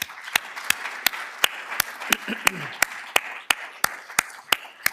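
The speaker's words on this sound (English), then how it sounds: "So please join me in giving Professor Zhang a round of applause." Applause at a Carnegie Mellon Energy Week seed award ceremony honoring Professor Zhang, with sharp, evenly spaced individual claps standing out over a soft crowd wash and a brief murmur of voices midway.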